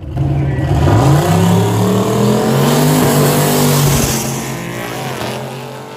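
Drag race cars, a Mustang and a Wagon, launch down the strip in heads-up racing, a loud sustained engine roar rising in pitch as they accelerate and fading slightly toward the end.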